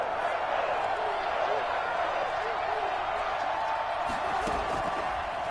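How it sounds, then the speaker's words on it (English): Simulated stadium crowd noise in a Madden football video game surges in a continuous, busy roar on third down, with scattered thuds and claps, while a play-by-play voice keeps talking over it. "Crowd getting in it a bit already"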